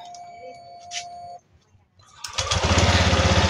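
A Honda Click 150 scooter with a misfiring engine and an unstable idle starts up after a brief quiet, then runs loud and close with a steady, rough, buzzing drone.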